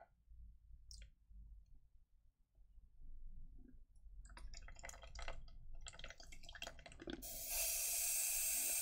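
A paint brush is rinsed in a water cup at a miniature-painting workbench, giving soft dripping, swishing and light clicking sounds at close range, with a sharper hissing burst of water near the end.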